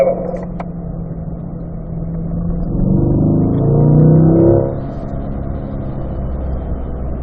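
A car held in fourth gear accelerates out of the banked bowl of a race track at a performance driving school, the engine note climbing and swelling loud before easing back to a steady drone.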